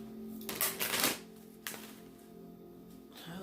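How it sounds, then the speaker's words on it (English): Tarot cards being shuffled by hand during a reading, a couple of brisk riffling bursts in the first second followed by a short flick, fairly close and with no talk over them. "Oh, these don't want to shuffle."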